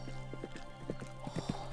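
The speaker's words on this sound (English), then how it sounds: "Oh, horse noises." Hooves clip-clop in a steady trot, with a horse whinnying briefly; video game horse sounds from a Barbie game, fairly quiet and somewhat synthetic.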